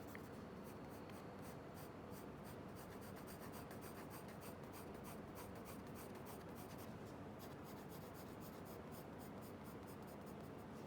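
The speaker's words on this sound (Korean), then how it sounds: "색깔을 칠해줍니다" A pencil shades a cube drawing on paper in quiet, rapid, rhythmic strokes, faint and close, with no talking.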